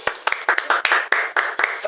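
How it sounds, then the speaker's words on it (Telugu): Children clapping together for a child named Honey, a close run of sharp, fairly regular claps about four per second, with a little voice sound mixed in. "ఫస్ట్ హనీకి చప్పట్లు కొట్టాలి"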